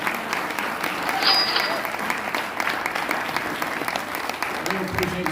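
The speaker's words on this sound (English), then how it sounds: "Big round of applause here for Steve Gill." A crowd at a Trump rally in Columbia, Tennessee, in October 2023 breaks into sustained, loud applause that keeps going steadily throughout, with a few voices mixed into the clapping.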